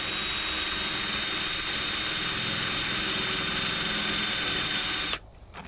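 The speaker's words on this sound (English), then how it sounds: "This is where I'm going to drill through the metal," Power drill boring through sheet metal for a sugarcane press stand, a loud high whine with grinding under it running steadily for about five seconds, then stopping abruptly.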